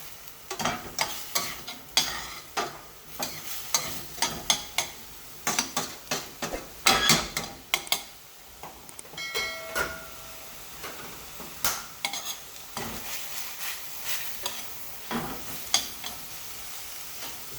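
Food sweating in oil in a pan for a Jamaican quick fix of bully beef, with a steady soft sizzle under frequent scraping and stirring clicks of a utensil against the pan, close and fairly loud, with no talking.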